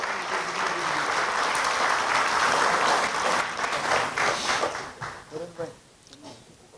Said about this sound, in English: Can we have a round of applause, everybody